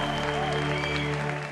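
Audience applause rings out after a song in support of Côte d'Ivoire's Elephants, a steady wash of clapping lasting the whole moment with sustained music tones underneath.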